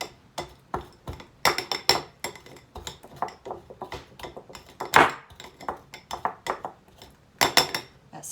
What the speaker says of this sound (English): with my pastry blender, we're going to go ahead and just mix this all together till it resembles wet sand